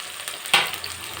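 Tomatoes hit a hot pan with chopped onion and sizzle briefly, a sharp burst of frying hiss rising then settling under a soft steady crackle.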